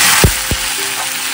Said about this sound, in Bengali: এখানে আলু আর কাঁকরোলটা একসাথেই ভেজে নেবো একটু